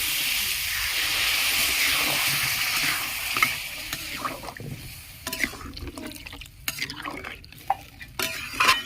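Water poured into sautéed vegetable dalia in a pot: a strong steady hiss of liquid hitting the hot pan, fading into scattered clinks and scrapes of stirring, with no talk.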